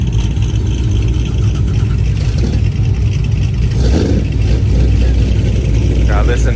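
Camaro V8 idling after a cold start at a car meet, with a steady low rumble and loud broadband exhaust noise throughout and faint voices in the background.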